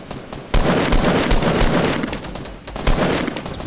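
Rapid bursts of close gunfire in a Fortnite match hammer away almost continuously, easing briefly near the end before another volley of shots, loud and with no talking.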